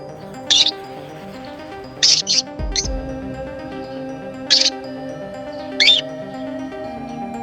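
A small sick bird gives brief high chirps in spaced pairs and singles, clear and close, over a steady musical background with no speech.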